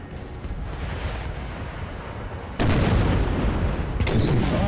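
Artillery cannons fire in the Napoleon Total War battle game, with two heavy booms landing over a continuous rumbling battlefield din and the second blast following close behind the first.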